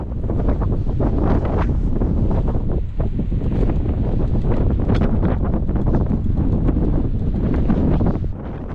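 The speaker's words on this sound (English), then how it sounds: "the wind was so strong where we set the harps up that it was difficult to even stand" Strong wind blows outdoors where homemade aeolian harps built from scrap and cardboard are set up, roaring and buffeting the microphone in loud, continuous gusts.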